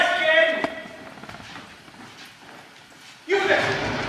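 Horses' hooves clip-clop as riders seek shelter from thickening rain. Voices speak over the hoofbeats at the start and end, with a quieter stretch of steady clopping between.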